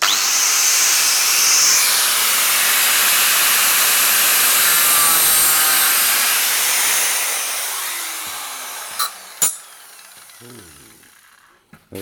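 An angle grinder runs loud and steady while cutting pieces for a Classic Mini engine install, a sustained high whine that fades down toward the end, followed by a few sharp knocks.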